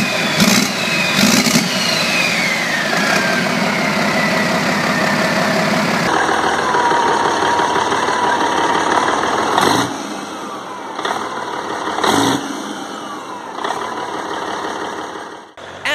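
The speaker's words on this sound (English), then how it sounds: "The engine sounds good." Caterpillar 3406 diesel engine running steadily at a low, loud idle-like drone throughout, with a few brief transient knocks and a faint high whine layered on top; no talking.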